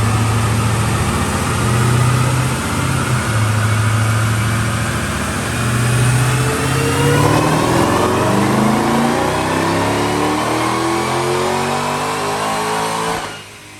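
A supercharged 6.2-liter Hellcat V8 in a 2021 Dodge Durango on a rear-wheel dyno pull drones low, then revs hard with rising pitch and supercharger whine, loud and close, before cutting off abruptly.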